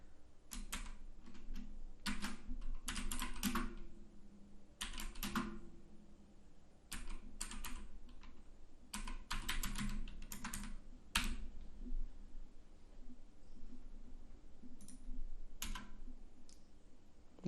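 Code typed on a computer keyboard while programming in Dart for Flutter: quiet, close key clicks in quick bursts and short runs separated by pauses, with no voice.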